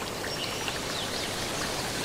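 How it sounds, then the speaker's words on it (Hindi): Water pouring down a waterfall in a green forest, a steady, dense rushing roar that fills the whole stretch without pause, close and continuous with no voices. "ये झरने से पानी गिर रहा है।"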